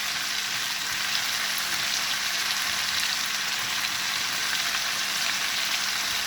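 Onions and aubergines frying in a pan, giving a steady, dense, close sizzle that holds evenly throughout with no voices.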